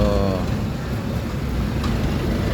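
Rain falling outdoors at a street event in Matina, a steady broadband hiss of drops that stays loud and constant throughout with no voices.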